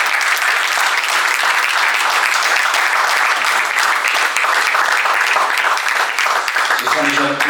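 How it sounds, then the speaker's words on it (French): An audience at a seminar closing and awards ceremony applauds, loud, dense clapping holding steady throughout with no break, a full room clapping together. "J'aimerais encore vous applaudir parce que le travail est effectué au sein du service."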